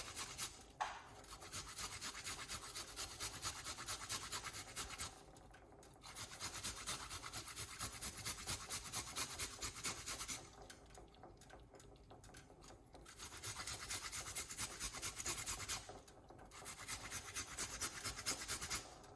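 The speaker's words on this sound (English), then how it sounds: "Now we're going to scrape it, piece of a ginger." A piece of ginger is scraped in long, steady rasping strokes, a close, gritty rubbing that continues for several seconds at a time and stops in a few short pauses, with no talking.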